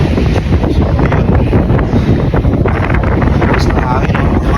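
Strong, continuous wind blows across the microphone, producing heavy buffeting noise with faint voices in the background throughout.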